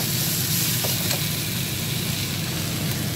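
Onion, capsicum, garlic and tomato sizzle steadily in a hot pan as they are stir-fried, a dense continuous hiss with faint stirring scrapes, close and fairly loud, no voices.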